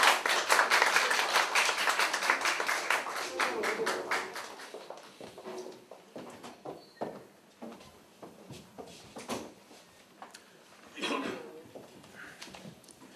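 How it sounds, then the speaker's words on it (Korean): An audience claps for the party leadership candidates at a Progressive Party Gyeonggi provincial campaign rally, a dense burst of applause at the start that thins into scattered, uneven claps, with another brief swell near the end. "당대표 후보들께 큰 박수 부탁드리겠습니다"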